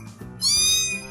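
A single cat meow sounds close and clear, rising sharply in the middle of the short clip. The rest is brief and quiet.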